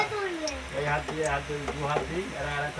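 Cumin seeds sizzle steadily in hot oil in a pan while a voice talks over the frying hiss, which stays close and continuous throughout.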